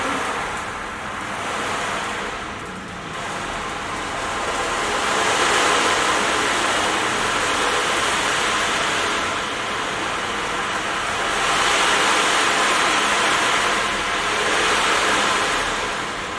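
An ocean drum, a frame drum filled with rolling beads, imitates ocean waves in a sound healing setting, with loud washing surges that swell and recede slowly in long waves of hiss.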